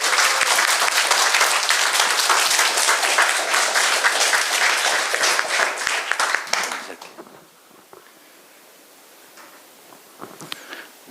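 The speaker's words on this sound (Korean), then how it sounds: "여러분 큰 박수 부탁드리겠습니다." An audience at a youth forum held at Pyeongtaek Hyomyeong High School breaks into loud, dense applause that carries on for several seconds, then quickly dies away into a quiet room with faint rustling.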